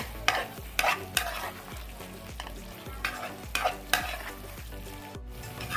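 A drumstick and tomato curry sizzles in a pan while a spoon stirs it in repeated rhythmic scrapes, the frying hiss steady underneath, close and clear with no talk.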